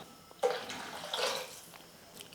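Water pours into a pot of rasam in a short splashing stream lasting about a second, then trickles off. It sounds close and there is no talking.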